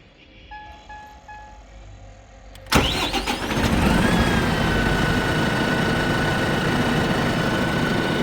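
A Deutz Fahr Agrolux 80 CRDI tractor's diesel engine cranks and fires after a few quiet beeps, then settles into a steady, close idle with a faint turbo whistle.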